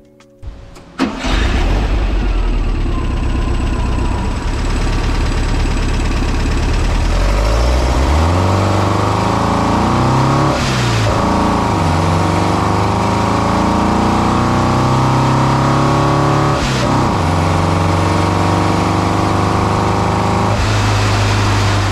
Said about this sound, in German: Der Motor ist ein Typ 4. Den findet man im Krankenwagenbus oder im Porsche 914.